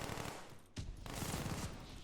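Call of Duty Vanguard gunfire: a short, faint burst of rapid automatic shots crackling over game ambience, with a brief pause before the firing resumes.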